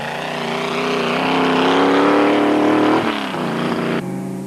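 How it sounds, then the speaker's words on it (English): A loud, harsh, rough-running Raceco rally car engine roars continuously at high revs, its pitch rising then dropping sharply as it shifts, with no voices. "by now the Raceco's engine was starting to sound a little rough"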